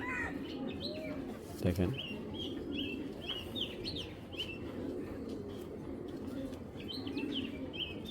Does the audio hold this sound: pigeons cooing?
yes